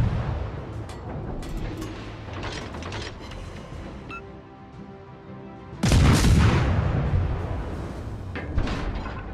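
Naval gunfire in World of Warships: Legends on PS5, with the Monaghan ship in battle: deep booming salvos and mechanical clanks, a quieter lull in the middle, then a loud heavy burst of cannon fire that rumbles on to the end.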